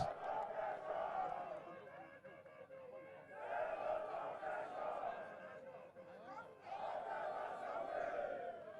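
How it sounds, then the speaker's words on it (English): Crowd at a Benin-Asaba Expressway flag-off in Edo roars and cheers in three loud surging waves, a mass of shouting voices heard from a distance. "He deserves a round of applause."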